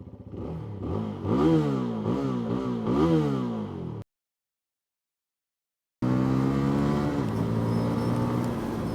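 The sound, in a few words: single-cylinder cruiser motorcycle engine revving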